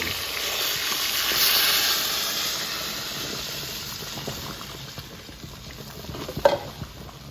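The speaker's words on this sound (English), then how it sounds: "this is going to get a little loud as it bubbles up" Loud hissing and sizzling as water hits a hot pot and bubbles up, fading gradually into softer crackles and a few clinks.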